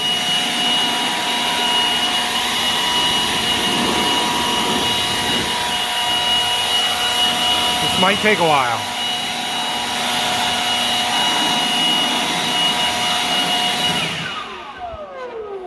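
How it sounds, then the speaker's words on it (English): A loud, steady rushing roar of a leaf blower running continuously to blow water off tractors, with brief whooshing shifts in pitch, a short remark spoken over it near the end. "we try and use the leaf blower to get all of it dry"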